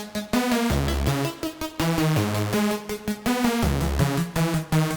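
Bright, buzzy reggaeton synthesizer leads play a choppy, rhythmic melody together, with short staccato notes over a deep bass line, up front and loud.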